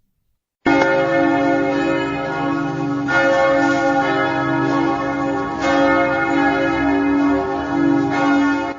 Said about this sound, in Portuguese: Às 7 da manhã os sinos tocam e avisam a todo mundo que a primeira missa do dia está começando